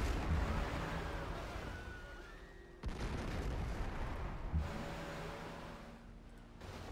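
Booming artillery fire from a warship in the strategy game Civilization V, several heavy dull blasts rolling out one after another over a steady low rumble, with no voices.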